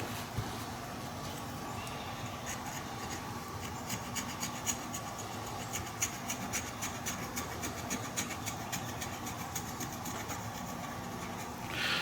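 A razor blade scraping powder residue build-up off a Hatfield SAS 20 semi-automatic shotgun, a quiet, close, continuous rasping rub with small repeated strokes over a low background hum.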